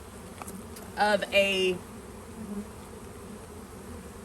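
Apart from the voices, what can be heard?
honey bees buzzing while installing a package of bees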